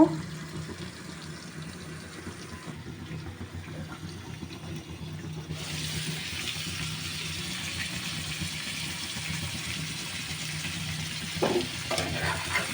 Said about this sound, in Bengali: এবার কম জাল দিয়ে, কম আঁচে এভাবে ঢাকনা দিয়ে ঢেকে ঢেকে এপিট ওপিট করে সুন্দর করে ভেজে নেব